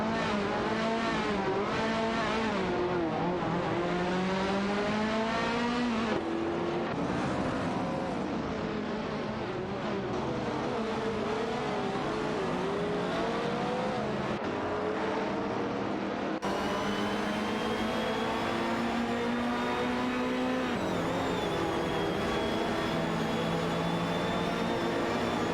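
Race cars in a video game, a Porsche 906 and a Nissan R382 among them, engines whining and rising and falling in pitch through gear changes, loud and continuous, with several cars overlapping.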